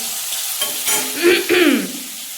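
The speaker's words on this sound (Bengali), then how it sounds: "এই যে মাছ ভাজা আমি ভুলেই গেছিলাম মাছ ভাজা দিয়ে খাবো" Fish frying in a pan gives a steady close sizzle with a few louder bursts of spitting crackle. No one speaks.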